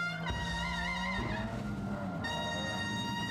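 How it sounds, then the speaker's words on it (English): A 1380cc MG Midget racing at the Wiscombe hill climb, its engine note rising and falling in sharp harmonic sweeps as it accelerates and shifts gear close by, loud and continuous with no talk. "This is Simon Hannum from Holtwood in his 1380cc MG Midget."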